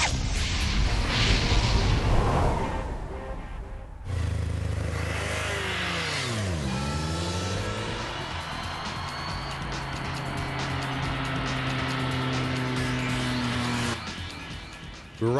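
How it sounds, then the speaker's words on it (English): Two new BMW motorcycles, a K1200R naked muscle bike and an F800ST, ride through Bavaria with loud, throaty engine noise and a throttle-twisting rise and fall, one machine sweeping past up close. "Riding two of the newest BMW motorcycles in Bavaria is an amazing experience."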